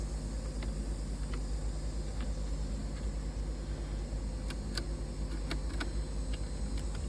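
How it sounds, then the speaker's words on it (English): Steady clicking of the turn signal relay in a barn-find Bertone X1/9, irregular ticks sounding over a constant low hum and hiss from inside the old car. "Blinkers. Oh, I hear a relay."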